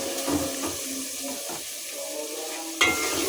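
Chickpeas frying in a pan with ginger, garlic and chili paste, cumin and red chili, giving a steady broadband sizzle with a few stirring scrapes and a louder clatter near the end.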